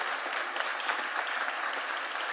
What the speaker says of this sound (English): Why don't we give them a clap as they come in,